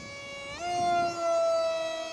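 RC F18 V3 jet with a Zoom 450 electric motor in flight, a loud, high tonal whine that jumps up in pitch, then holds steady and close before easing slightly at the end.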